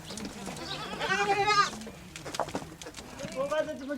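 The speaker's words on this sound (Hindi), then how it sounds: "हमारे गांव में अधिकतर परिवारों के पास बकरियां हैं।" Goats in a village bleat repeatedly, several wavering calls near and loud with brief pauses between, while a person talks.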